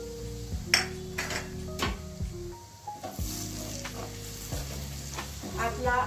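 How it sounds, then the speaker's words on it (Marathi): Kashmiri chili powder and kitchen king masala sauté in a hot oiled pan for paneer masala, sizzling loudly and steadily while a spoon scrapes and clinks against the pan in repeated strokes, with brief light tonal pings. "आपला मसाला परतला आहे"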